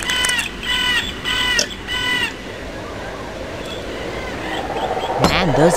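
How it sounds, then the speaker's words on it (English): Birds caw loudly in repeated harsh bursts inside the Amnesia horror game, with a busy layer of game noise continuing underneath and a sharp swooping cry rising near the end. "Man, those birds are yelling."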